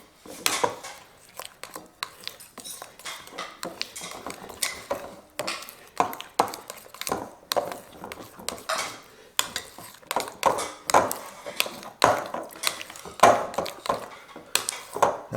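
Keto donut batter being stirred in a bowl, with rapid irregular clinks and scrapes of a utensil against the dish, steady and close, with no talking.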